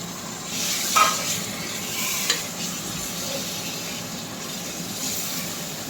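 Mutton goes into a pan with coriander, ginger paste and turmeric for biryani, a steady low sizzle of frying with a couple of sharp clatters and stirring scrapes near the beginning, close and moderately quiet.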